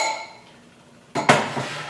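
Glass Pyrex dishes clink and knock together as they are handled, a sharp pair of bright chinks after a quiet pause, close and clear with no talking.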